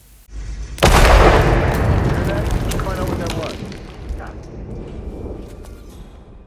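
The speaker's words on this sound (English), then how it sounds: "Now stand back and click detonate." One loud explosion from the video game Hitman: Silent Assassin booms suddenly, then rumbles and crackles as it fades slowly over several seconds.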